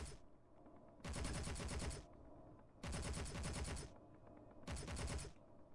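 Gunfire in the Space Engineers video game comes in three dense bursts of rapid automatic shots, each lasting about a second, separated by quieter stretches of low background hum.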